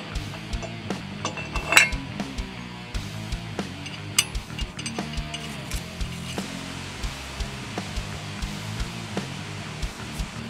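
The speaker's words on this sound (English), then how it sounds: "Tighten the bottom bolt first." Metallic clicking and ticking of a ratchet tightening wheel spacer bolts on a car hub, a steady run of small sharp clicks with occasional louder clanks, close and alone.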